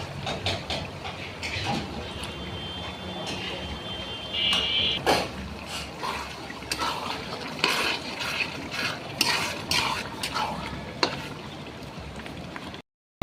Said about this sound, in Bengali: তো মাংস কলিজাটাকে এভাবে যত নাড়বো তত ভালো হবে।